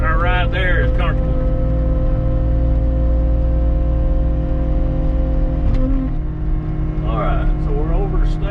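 A side loader log truck driving, its low engine drone steady and loud throughout, with someone talking over it at the start and again near the end.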